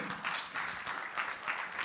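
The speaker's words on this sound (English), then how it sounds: "another round of applause for the Mayor" Applause from a conference audience in Wolverhampton for the mayor, rising and falling in short waves of dense clapping.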